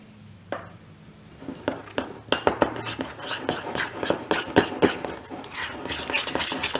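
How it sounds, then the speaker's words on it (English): Sugar cookie dough tinted with green food coloring is worked by hand or with a utensil in a bowl, producing a steady run of soft thumps and sticky clicks, close and moderately loud. "I just want to mix the food coloring in to where you don't see streaks"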